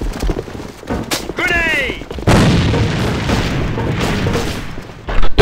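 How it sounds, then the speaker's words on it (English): A grenade blast and bursts of rifle gunfire in the online shooter AvA (Alliance of Valiant Arms), loud and close, with a sharp boom partway through followed by sustained rumbling and shots. "Grenade!"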